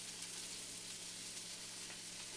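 Steady, close sizzling of chicken breast frying in a pan, a constant crackling hiss with no talking.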